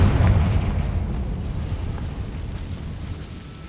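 A Confringo fire spell explodes in Hogwarts Legacy, a loud, deep boom that hits at once and then trails off into a long, rumbling decay of fire and debris.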